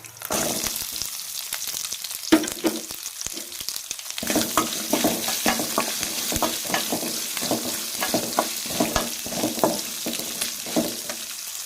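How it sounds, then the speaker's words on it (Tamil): Ginger and onion sautéed in a pan, with green chilli and garlic, for a bottle gourd chutney: a soft sizzle, then brisk rhythmic spatula stirring and scraping up close, no talking. "லைட்டாக கொஞ்சம் வதக்கணும் இஞ்சி வெங்காயம் சேர்த்துக்கலாம்"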